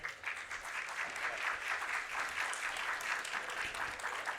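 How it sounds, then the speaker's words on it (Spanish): An audience at a conference session on gaming and betting in Brazil applauds as a Brazilian lawyer is welcomed to speak: a steady wash of many hands clapping, moderately distant and soft, sustained for several seconds. "Un aplauso para él."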